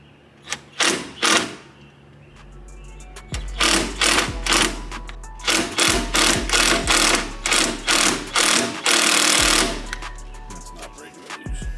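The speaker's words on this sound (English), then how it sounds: "we're actually gonna go with the impact gun" Cordless impact gun hammering in repeated rattling bursts on a 2022 11th-gen Honda Civic steering wheel bolt, close and loud, a dozen short runs separated by brief pauses.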